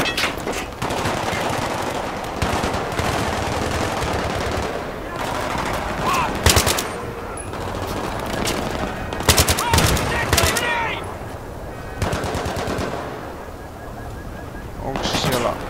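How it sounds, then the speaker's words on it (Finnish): Battlefield 3 combat crackles with repeated machine-gun bursts and sharp gunshots, some loud and near, others in rapid volleys, with people talking over the fire. "Taas meitä ammutaan."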